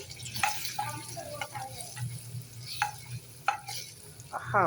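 Cooked koorka (Chinese potato) stirred and fried in a pan, with soft sizzling under repeated scraping strokes of a spoon against the metal, fairly close and moderate in level.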